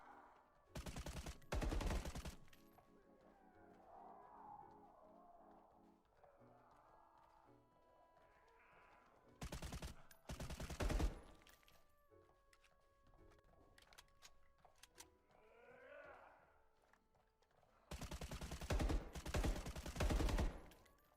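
Bursts of gunfire in The Day Before, shooting at zombies, arrive in three loud volleys, near the start, middle and end, with quieter game ambience and mechanical noises between them.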